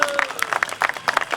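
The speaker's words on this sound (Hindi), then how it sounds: "आकाश जी के लिए जोरदार ताली बजाए" A crowd at an outdoor bridge groundbreaking ceremony in Indore applauds, with irregular bursts of clapping from many hands, fairly close and lively, mixed with a brief tone and faint voices.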